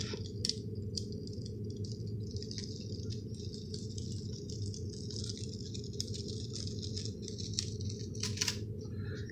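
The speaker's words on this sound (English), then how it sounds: "we're going to peel this off." A Chalk Couture adhesive transfer being peeled off a surface makes a steady crinkly, crackling rustle close by, sprinkled with small ticks over a constant low hum.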